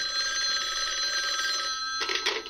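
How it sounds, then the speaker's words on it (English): A bedside telephone rings insistently in an old radio drama played from a vinyl record, a bright electric bell trill sustained close and loud, breaking off as a voice begins. "is awakened by the urgent ringing of her bedside telephone"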